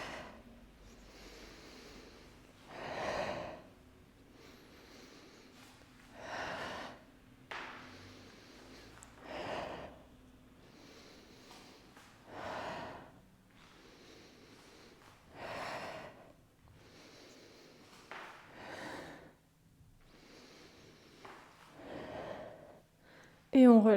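A Pilates instructor breathes in and out during an abdominal exercise, slow, audible rhythmic gasping inhales and puffed exhales repeating about every three seconds, close and clear.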